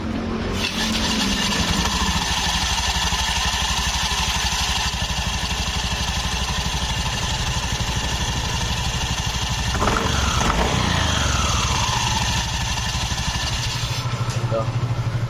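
A motorcycle with a fault in its CVT roller assembly is started again and revved, running as a loud, continuous engine drone that rises in pitch partway through, while someone talks over it.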